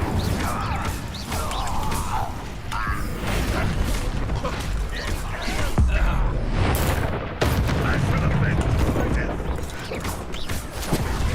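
Incendio fire spell cast during combat in Hogwarts Legacy, amid dense bursts of crashing impacts, whooshes and booming hits, with a voice speaking over the fighting.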